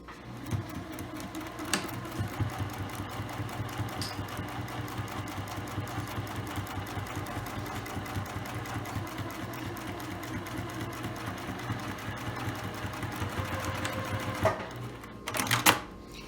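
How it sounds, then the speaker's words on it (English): A sewing machine runs steadily, stitching the last side of a tote bag's lining. The motor hums in an even, continuous rhythm at low volume, broken by a couple of brief clicks and a louder clatter near the end. "Now I'm sewing the last side of the lining."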